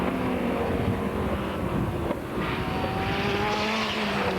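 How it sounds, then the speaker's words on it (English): The number 56 Marcos GT race car grumbles around Croft circuit during a 1997 BRDC GT race, its engine note droning steadily at a moderate distance with a slight pitch shift as it passes. "the number 56 Marcos continues to grumble round"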